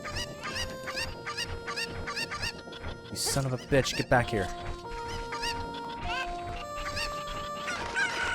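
Chickens in Zelda: Ocarina of Time cluck and squawk in repeated bursts throughout, loud and close, with someone shouting over them partway through.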